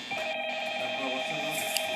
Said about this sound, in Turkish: Telefon çalıyor. Telefon nerede çalıyor?